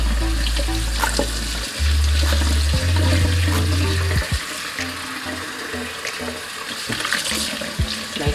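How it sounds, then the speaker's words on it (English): Tap water runs and splashes over a fish as leftover scales are rinsed off, a steady close gush with handling clatter and drips. "you can rinse it off so that any remaining scales can get off"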